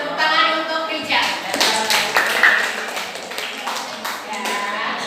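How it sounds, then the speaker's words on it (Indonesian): A classroom of students claps together in a brief burst of applause that tapers off, with voices heard faintly alongside. "Kasih tepuk tangan untuk Rijal."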